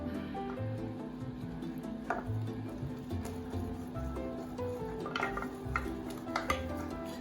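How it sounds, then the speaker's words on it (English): Flour being beaten into melted butter and water for choux paste makes soft, irregular stirring and tapping of a spoon against the pan, fairly quiet and close, with a low steady hum beneath. "Now you have to start beating"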